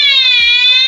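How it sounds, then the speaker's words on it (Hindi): A fire alarm siren sounds loud and steady after a manual call point is pressed during a practical training setup, a continuous tonal wail that fills the whole moment without pause. "प्रेस करेंगे और आप देख सकते हो ये सायरन बज रहा है"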